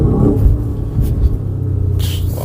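A car engine in sport mode gives a deep, steady rumble from inside the cabin, loud and continuous, with a brief rise in tone near the end.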